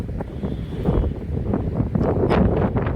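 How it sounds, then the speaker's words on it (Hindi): Strong wind buffets the microphone on a hilltop, a continuous loud rumbling roar with gusts swelling throughout, alone with no voices. "देखो कैसा जोर से हवा चल रही है।"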